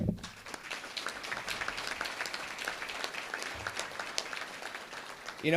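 An audience at a cyber network conference event applauds veterans with a sustained patter of clapping hands at moderate distance, steady throughout with no voices over it.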